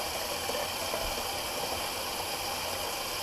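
Cold water runs from a tap during a wet shave: a steady, even hiss of flowing water that continues unbroken, moderately loud and alone, with no talk.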